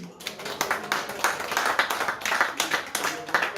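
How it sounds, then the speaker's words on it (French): Audience members at a literary conference applaud their hosts with close, uneven clapping, some individual hand claps standing out and a voice faintly present beneath. "Donc on peut les applaudir, merci à eux."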